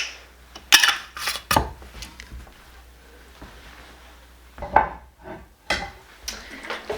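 Lids are set onto glass jars of homemade vanilla, giving sharp, close clinks and clanks in irregular bursts with quiet gaps between them.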